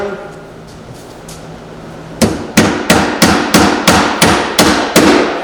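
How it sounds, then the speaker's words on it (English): Nails driven by hammer into a keeper: after a quiet start, about nine sharp, loud, evenly paced strikes follow one another, each ringing briefly. "we're just going to nail it into place"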